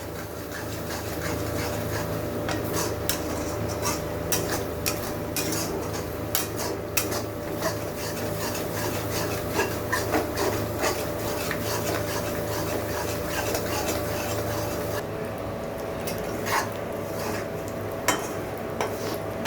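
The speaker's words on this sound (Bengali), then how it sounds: "কন্টিনিউ নেড়ে যেতে হবে।" A spoon keeps stirring milk cream in a pan as it cooks down into ghee, making steady close scraping and rubbing strokes with a soft bubbling hiss underneath and no talking.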